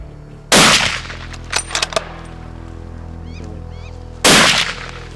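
Hunting rifle shot at a giant eland bull in the African bush, one sharp loud crack followed by a few faint clicks, then a second loud report near the end; distant birds call in between.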